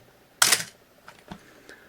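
A Canon AE-1 35mm film SLR with a 50mm f/1.4 lens fires its shutter at 1/30th, a single sharp mechanical clack followed by a few faint softer ticks.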